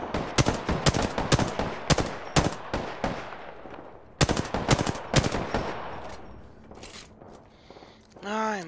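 Rapid gunfire in a video game, bursts of loud, close shots in quick rhythmic volleys with brief pauses, ending in a short whooshing effect.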